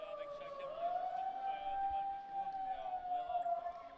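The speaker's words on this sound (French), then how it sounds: "Oui, alors qu'il y a une sirène qui retentit." A supporter's megaphone siren sounds at a youth football tournament match between Ajax and Lugano, a steady, slightly wavering wail held for several seconds, fairly faint and distant over crowd ambience.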